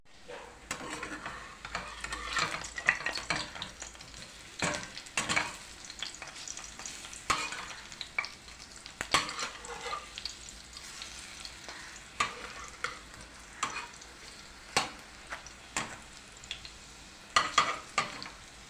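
Fat fritters (bora) made from beef fat sizzle and spatter steadily in a frying pan, with bursts of crackle and occasional stirring scrapes, close and continuous with no talk.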